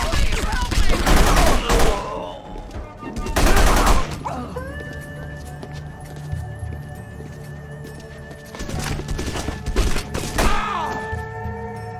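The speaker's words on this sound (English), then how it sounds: "Stay here until the gunfire stops." Bursts of rapid gunfire crackle loudly at the start and again near the end of a meat packing plant level in The Punisher video game, with electronic tones and game effects sounding between them.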